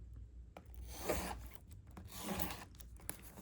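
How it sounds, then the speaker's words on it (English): Scissors cut through the snug, tight plastic wrap on a box of 1994 Flair trading cards, making soft close rubbing, crinkling and snipping sounds that stay faint and steady throughout. "this is where we will go to the scissors, because that plastic is so snug, so secure"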